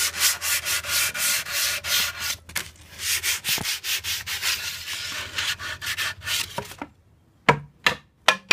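Sandpaper is rubbed by hand over the wood of a DIY dog bed box in quick, rhythmic back-and-forth strokes that are close and clear, ending in a few separate scrapes after a short pause.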